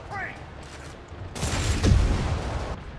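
Explosions and bursts of gunfire in Spider-Man (2018), a sustained rumbling roar of blasts and crackling fire swelling midway, loud and close, with brief game voices at the start.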